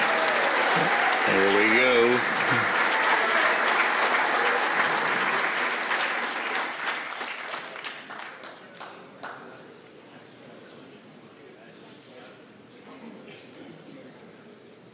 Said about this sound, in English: We're going to hear some applause for this.